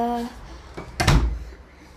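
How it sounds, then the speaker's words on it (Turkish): A door closes in the Bendy and the Ink Machine game with one sharp thud in the middle, after a short voiced sound and over a low background hum that fades out. "durun bir kapıyı kapatmayı unutmuşum"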